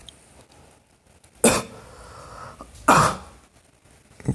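Two sharp coughs from one person, about a second and a half apart, close and loud over a quiet room, with no talking.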